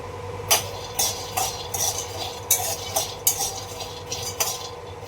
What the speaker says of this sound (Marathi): म्हणजे शेंगदाणे भाजून घेऊया.